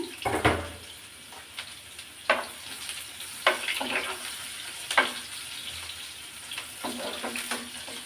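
Chopped onion with garlic frying in hot oil for a dal tempering, a soft continuous sizzle broken by periodic clinks and scrapes of stirring.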